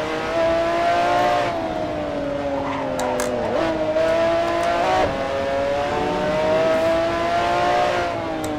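A McLaren F1 GTR race car in Assetto Corsa at Laguna Seca locks its brakes, tires squealing in wavering tones over a steady engine drone throughout, with no voices.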